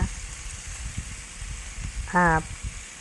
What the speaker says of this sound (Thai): วันนี้มาทำผัดเส้นแก้วนะคะ